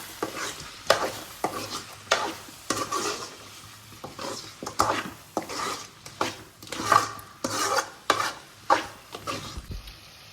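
Chicken curry with garam masala is stirred in a pan, producing rhythmic scraping strokes of a spoon against the metal about once a second over a faint sizzle, close and unaccompanied by talk.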